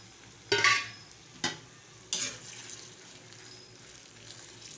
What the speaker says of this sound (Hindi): इसको हम थोड़ी देर इसके साथ फ्राई करेंगे अदरक के साथ